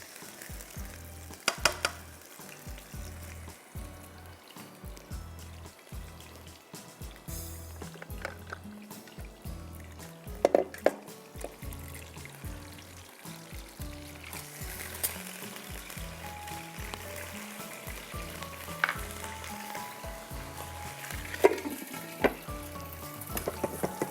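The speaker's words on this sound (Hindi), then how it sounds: "मैं पहले पूरा मसाला भून लूँगी, दही, लाल प्याज सब डाल के" Masala of yogurt and red onion sizzles steadily in a pan as it is fried, with repeated rhythmic stirring scrapes and occasional louder clatters throughout, and no voices.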